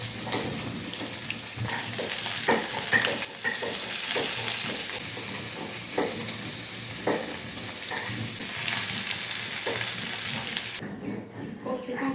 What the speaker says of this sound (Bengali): চলো অয়েল গরম রসুন দিয়ে দিই